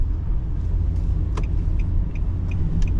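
A Nissan Murano gradually slowing on adaptive cruise control, heard from inside the cabin as a steady low road and engine rumble with faint brief clicks over it.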